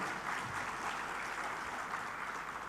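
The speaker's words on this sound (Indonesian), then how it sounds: "boleh tepuk tangan?" A summit audience in Bali gives faint, distant applause, a soft, even patter of many hands heard from far back in a large hall.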